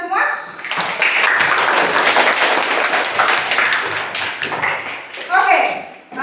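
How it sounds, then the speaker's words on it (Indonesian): A classroom of children applauds together after a reading activity, a steady, dense burst of clapping lasting several seconds, with a brief voice at the start and end. "tepuk tangan dulu untuk kita semua"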